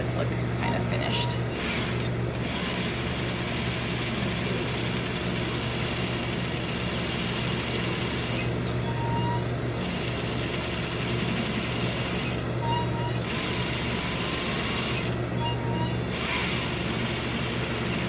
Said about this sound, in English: I'm just going to do a nice little top stitch here to make this look kind of finished.